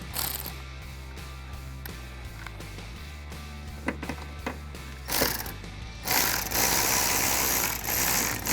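A hand ratchet tightens a 10mm nut on a Toyota Tacoma intake bracket, with quick rapid clicking bursts, faint and close, over a low steady hum, followed by louder rustling handling noises.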